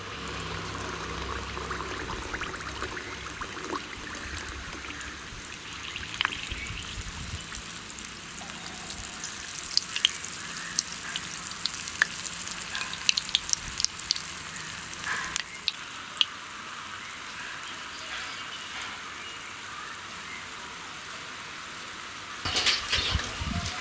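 Rice appam batter hits moderately hot oil and fries with a steady, close sizzling hiss that carries on for the full stretch, without any talking.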